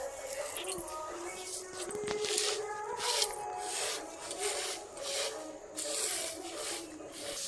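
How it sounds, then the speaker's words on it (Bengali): Mustard seeds being sifted and winnowed by hand to shake out empty husks, a steady dry rubbing and rasping rustle that rises and falls in repeated strokes, close by, with faint background noise. "মা এইভাবে চেলে চেলে যে খোসাগুলো সেগুলো বাদ দিয়ে দিচ্ছে"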